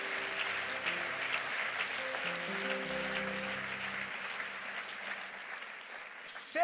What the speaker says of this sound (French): je pense que quelqu'un a commencé à applaudir